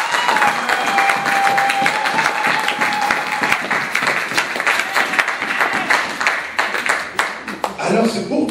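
A church congregation breaks into loud, sustained applause with some cheering, dense clapping throughout that thins and turns more scattered toward the end.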